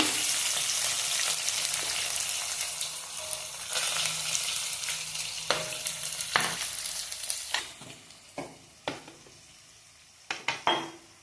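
Onions sizzling in a hot pan for vegetable upma, a steady fry hiss that fades over time, broken by sharp clinks and scrapes of a utensil against the pan in the later seconds, with no talking.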